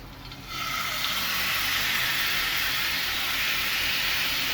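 Marinated chicken tikka pieces hitting a hot pan without added oil, a sudden loud sizzle that swells into a steady hiss and holds for a few seconds.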